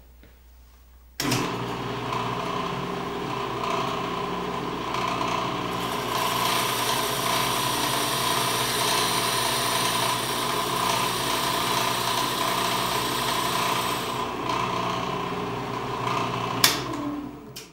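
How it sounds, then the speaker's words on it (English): A drill press with a 7/8 inch Forstner bit starts up and runs steadily for a long stretch, a constant motor drone with a slight grinding texture, then winds down. "So I have a 7/8 inch Forstner bit in my drill press for a nice clean hole."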